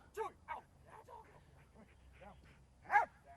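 A police dog in a bite-and-fight training exercise with a mock suspect gives a few short barks and yelps, with a louder burst near the end, while people talk nearby.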